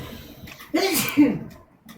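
A single sharp sneeze bursts out close by with a quick intake and a loud release, then fades into quiet breathing during a game session.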